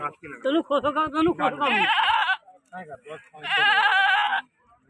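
People talk nearby at a goat market, then a black, long-eared Beetal goat bleats loudly and close, twice, each a long wavering cry, with more voices between the calls.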